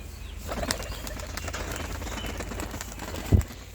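A pigeon takes flight in a pigeon-keeper's flock, its wings flapping as a soft, fairly close rustle over a steady background hiss, with a sharp thump near the end.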